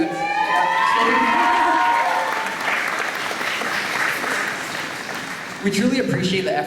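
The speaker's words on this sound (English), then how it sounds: "let's have a huge round of applause to our Hayden teachers" A large graduation audience applauds and cheers for teachers during a valedictorian speech, a loud sustained roar of clapping and shouts, with a speaking voice at the start and again near the end.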